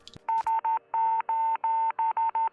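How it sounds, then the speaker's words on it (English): An SOS Morse code distress signal said to come from a cosmonaut orbiting Earth: a steady beeping tone in three short, three long and three short pulses. The beeps are loud and clear, with a sharp click just before them. "the brothers intercepted an SOS Morse code distress signal from a cosmonaut orbiting"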